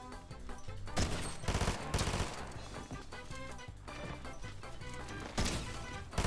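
Rapid bursts of automatic gunfire from a weapon in the video game Fortnite, heavy cracking shots in clustered volleys over a constant layer of game music and effects, loud and up close.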